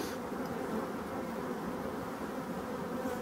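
Bees buzz steadily around an opened Voirnot beehive in a forest, a dense, constant drone close by with no pauses and no talking.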